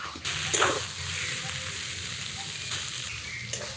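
Taro leaves cooked with a hilsa fish head sizzle in a hot frying pan, a steady close frying hiss with occasional scrapes and clatters of stirring.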